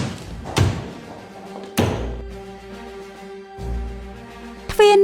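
A door slams shut with sharp, loud thuds, one near the start and a heavier one just before two seconds, then a further knock and a clatter at the end, set against a quiet indoor room.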